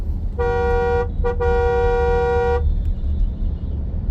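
Slow-moving road traffic jam: a car horn blares in one long blast with a brief break, sounding for about two seconds over a steady low rumble of idling and crawling engines.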